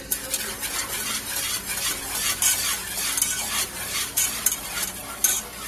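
Thickening strawberry cobbler filling is stirred briskly in a pot, with a continuous run of close, bright scraping strokes against the bottom and a soft bubbling sizzle beneath.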